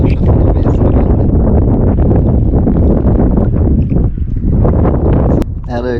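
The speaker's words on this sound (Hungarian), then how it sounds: "annyira hullámzik a víz, vagy fúj a szél" Strong wind buffets the microphone at a lakeside fishing spot in spring, a loud continuous broadband roar that fills the whole clip, with a brief rattling sound near the end.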